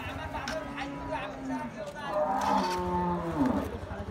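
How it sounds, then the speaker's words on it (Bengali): Bulls low repeatedly with deep drawn-out moos, close by, over background voices and a bustling crowd at the Fasiladanga cattle market in Dinajpur. "এখানে দেখছি একটি ষাঁড় গরু"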